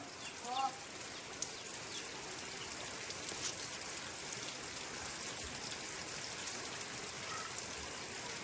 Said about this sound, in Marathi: बाहेर मुसळधार पाऊस आहे